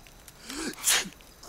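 One sharp sneeze from someone with allergies, a quick indrawn breath followed by a bright, forceful burst close to the listener, brief and alone before a faint voice begins.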